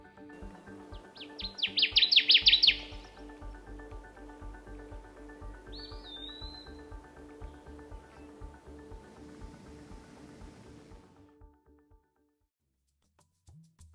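Male Connecticut warbler singing in boreal forest: one bright, fast burst of song near the start, then a single faint short chirp, with a low steady hum beneath and quiet stillness afterward.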